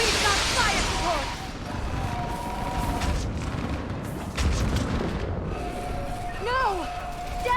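Artillery fire support pounding a battlefield in the Mass Effect 3 assault on Thessia: deep booming blasts and rumbling impacts across the whole stretch, mixed with game effects and voices calling out over the din.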